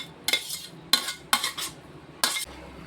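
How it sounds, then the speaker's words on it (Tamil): Cooked chicken biryani rice being tipped from a cooker into a basin, four sharp metallic scrapes and clanks of a utensil against the metal, close and clear with quiet gaps between. "இப்போ சோறை வந்து இதில் கொட்டிடுவோம்."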